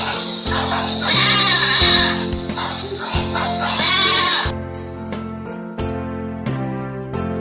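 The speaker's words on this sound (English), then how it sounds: "G for goat." A goat bleats several times in loud, wavering cries over steady background music with a clear beat, and the calls come in a rhythmic pattern.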